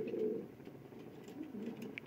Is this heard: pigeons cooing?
yes